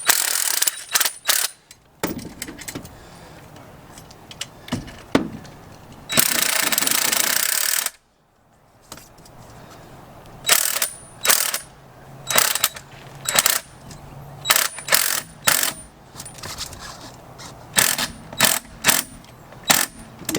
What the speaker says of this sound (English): There's a little wrench, a little ratchet wrench that goes in